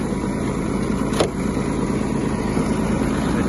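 A Kubota GB-180 mini tractor runs in first gear at minimum speed, its small engine chugging steadily and close by, with one brief sharp click partway through.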